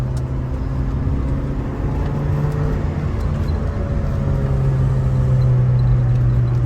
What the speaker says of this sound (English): Give us some more RPM here.